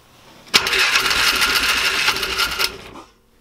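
A Polaris Ranger UTV engine cranks and turns over for about two and a half seconds with a loud, buzzing whir, then cuts off abruptly into quiet.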